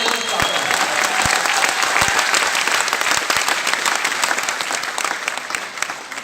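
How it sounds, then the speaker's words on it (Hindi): Enthusiastic crowd applause at a stage celebration event in Bihar, loud and continuous with scattered sharp claps and a faint whistle near the start, gradually easing toward the end. "सबके लिए जोरदार तालियां"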